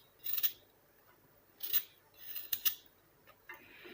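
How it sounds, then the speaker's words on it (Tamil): Indian gooseberries are chopped into small pieces, with a few sharp, separate cutting strokes close up in a quiet room and short gaps between them. "அந்த விதைகள் மட்டும் எடுத்துகிட்டு குட்டி குட்டி பீஸாக இந்த மாதிரி கட் பண்ணி உள்ளே சேர்த்துக்கோங்க."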